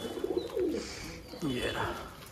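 Saharanpuri Niladuma pigeons coo softly in a pigeon loft, a few low rolling calls close by, with faint background noise.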